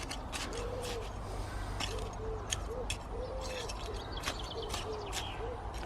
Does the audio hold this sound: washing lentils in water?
no